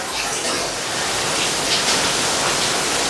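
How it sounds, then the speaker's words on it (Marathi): Rough sea waves on the Kerala coast roar as a dense, continuous broadband wash, loud and close, with no talking over it. "समुद्र तुम्ही बघेल ना मस्त एकदम खवळलेला आहे"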